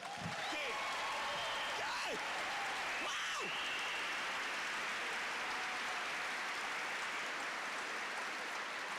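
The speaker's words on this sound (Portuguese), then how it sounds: "Pode aplaudir." A church congregation applauds during a sermon at a Jericho siege prayer event, with broad, steady clapping filling the whole stretch at moderate level and a few voices rising over it.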